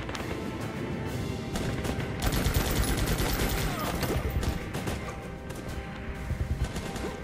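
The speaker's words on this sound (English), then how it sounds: "Shoot him." Dense, continuous gunfire fills the Guns Up video game battle, a loud unbroken rattle of overlapping shots and impacts with no pauses.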